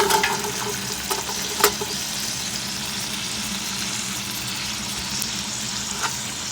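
Green beans frying with bacon and onions in a pan over a low flame give a steady, close sizzle with a few faint clicks of stirring; no one speaks.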